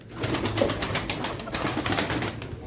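Pigeons at a pigeon auction in Çorum coo near and loud in repeated overlapping throaty calls, with rustling and fluttering around them and no talk.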